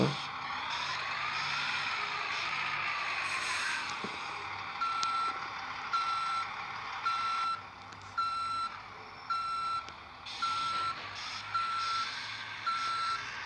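A Mercedes Travego coach maneuvers out of a tight spot, its steady engine drone overlaid by regular, evenly spaced reversing beeps that repeat for several seconds at close range.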